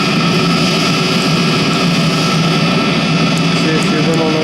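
A Chinese diesel heater burning oil gives off a loud, steady roar and whoosh at close range, unbroken from start to finish.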